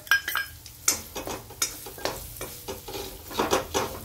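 A spoon scrapes and stirs chili powder, turmeric, onion-garlic masala, chaat masala and salt into mashed potatoes in a pan for aloo paratha filling, making close, irregular scraping strokes over a faint sizzle.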